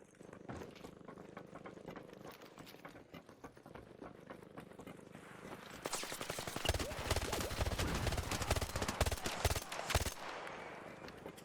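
Gunfire in the video game ARC Raiders, rapid automatic bursts crackling over a muffled background, then a louder dense stretch of shots with a heavier thump where a grenade goes off, all fairly close.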